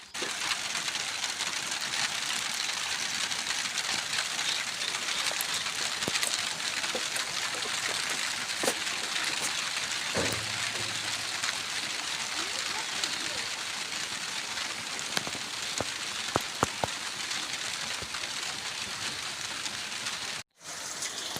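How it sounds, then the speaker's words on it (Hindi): Steady heavy rain pours continuously, a dense hiss of drops on surfaces with occasional sharper taps, no talking. "आप देख सकते हो कितनी ज़्यादा बारिश हो रही थी"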